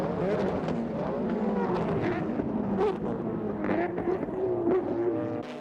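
GT race cars, including the Esso Toyota Supra in the 1999 JGTC GT500 class, scream past with rising and falling engine notes under continuous commentary.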